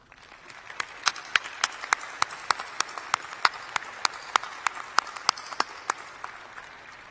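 Audience applause at a spring university convocation, a broad wash of clapping punctuated by a few sharp, evenly spaced claps standing out close by, continuing for several seconds.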